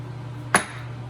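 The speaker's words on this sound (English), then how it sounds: "So to install the outer pinion race, I'm going to use the old one to hit against to push it in." A single sharp metallic tap as an old pinion race strikes the new outer race of a 2004 F150 rear differential, one clean ringing hit over a low steady hum.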